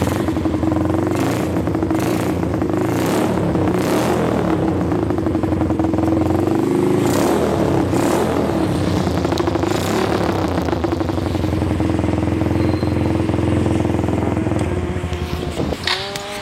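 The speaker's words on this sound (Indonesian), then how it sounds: "itu suara dari Yamaha Bison konsep cafe racer ini cuy" A Yamaha Bison motorcycle built as a cafe racer runs steadily and loudly close by, its engine rumbling with throttle blips and clattering mechanical texture throughout, with no talking over it.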